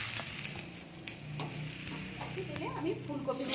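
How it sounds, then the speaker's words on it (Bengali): Pieces of bhetki fish frying in oil sizzle steadily nearby, broken by occasional stirring taps, while a faint voice murmurs near the end. "আমি এইভাবে সমস্ত মাছগুলো ভেজে তুলে"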